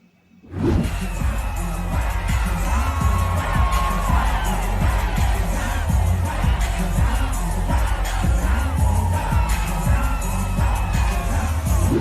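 Large outdoor crowd in Los Angeles cheering and yelling around people dancing on a restaurant rooftop, a loud continuous roar of shouts and whoops with thumping bangs underneath.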